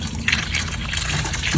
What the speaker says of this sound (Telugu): ఇందులో మళ్ళీ ట్యాప్ వాటర్ అయితే నేను మిక్స్ చేస్తున్నాను అనమాట